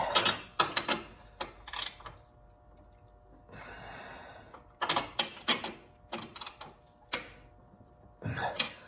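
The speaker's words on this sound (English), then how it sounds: "lightly thread our nuts on" Nuts being lightly threaded by hand onto the mounting bolts of a snow plow kit on an ATV, heard as bursts of close metallic clicking and ratcheting separated by quiet pauses.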